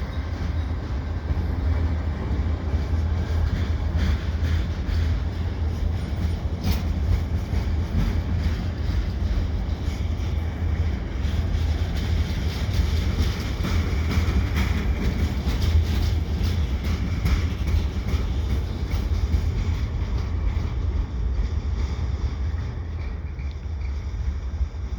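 A long Via Rail passenger train with a P42DC locomotive and Budd coaches rumbles steadily past on the Lachine Canal bridge in winter, with continuous low clatter and wind buffeting the microphone, no voices heard.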